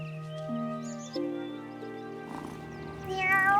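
A cat meows in the farming game Wylde Flowers, a few short meows over soft, sustained game music.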